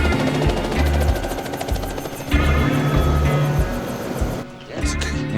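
Helicopter rotor thumping loud and close, airlifting replacement machine parts to a crew stranded on a remote dirt road, with a steady pulsing beat that dips briefly near the end.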